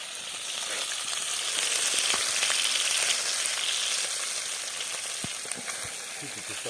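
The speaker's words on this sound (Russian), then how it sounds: "Жарим ленка." Lenok fish frying in a pan on a fishing trip in Yakutia: a steady, even sizzle of hot oil runs throughout, with occasional small pops and faint clicks of stirring.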